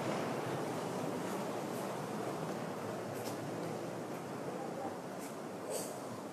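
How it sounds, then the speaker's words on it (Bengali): Strong floodwater rushes toward houses in a riverside settlement. A continuous broadband roar of churning current and waves is mixed with wind buffeting the microphone, steady and fairly loud, with no speech. "এই যে পানির স্রোত সেটি আপনারা দেখলে নিশ্চয়ই বুঝতে পারবেন"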